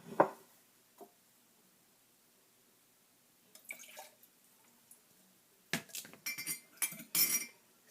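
Spoon stirring sugar into lemonade in a cup, with a few scattered clinks and then a busier run of tinkling scrapes and taps against the glass, close but soft amid quiet pauses.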